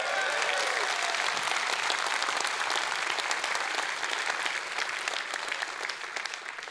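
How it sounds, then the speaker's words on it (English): A large audience at EVE Online Fanfest breaks into sustained clapping, dense and even across the whole stretch, easing slightly toward the end, with no voices above it. "some shy clapping"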